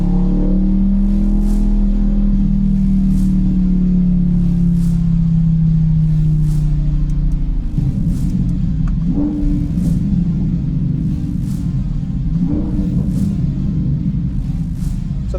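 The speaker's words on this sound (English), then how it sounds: "We had took off from idle, we drove up to 70 miles an hour, went through some different gears, a little bit of part throttle acceleration." A C8 Corvette accelerates through its gears from idle up to highway speed under part throttle, a loud steady engine drone rising in pitch, then shifting into a deeper, rougher rumble that holds continuous and close throughout.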